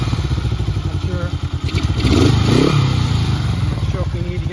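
A 1967 Honda CB77 Superhawk motorcycle engine started cold on its electric starter, idling with a rapid, uneven loud chugging and brief revving swells, close up, with someone speaking over it.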